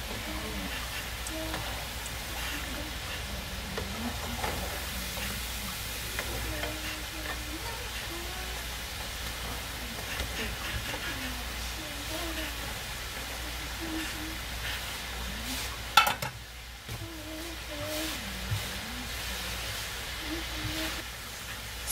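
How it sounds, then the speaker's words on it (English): Kokoro, a fried snack, sizzles continuously as it browns in hot oil, a steady, even crackle throughout with a brief clatter near the end, and faint voices murmur in the background. "I'm going to allow it to get more brown. And then I bring it out and fry the next batch."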